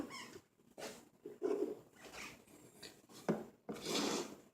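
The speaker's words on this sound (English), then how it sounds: "Cracking some eggs" Eggs are cracked for scrambled eggs in a home kitchen, a few sharp taps and shell cracks with clinks of a bowl, close up, spaced out over several seconds, without talk.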